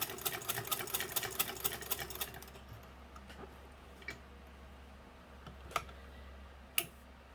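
A Singer 115 hand-crank sewing machine stitches fabric in a quick, even run of close mechanical ticks for about two seconds, then stops, followed by a few isolated clicks and knocks.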